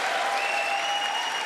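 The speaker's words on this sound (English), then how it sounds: "She already got up to clap twice." Sustained loud applause fills the chamber at the 2024 State of the Union address, a dense, even roar of many hands clapping at once, unbroken for the full stretch.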